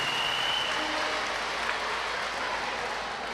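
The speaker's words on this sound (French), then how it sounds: "Je voudrais vraiment qu'on applaudisse tous les enfants du Mali" A hall audience at a children's spelling competition final breaks into dense, steady applause for the children of Mali, loud and continuous throughout with no gaps.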